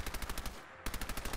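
Rapid automatic gunfire from the player's weapon in Fallout 4, a steady rattling burst of closely spaced shots that cuts out briefly, then resumes just as fast and loud.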